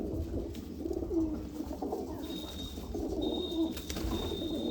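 Golden eyes pigeons coo softly in a loft, low repeated throaty calls over a muffled room background, with a faint high tone drifting in and out.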